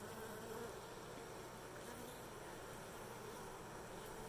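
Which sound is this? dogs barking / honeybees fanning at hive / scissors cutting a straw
honeybees fanning at hive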